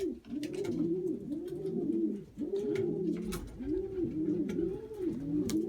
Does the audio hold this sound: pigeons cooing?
yes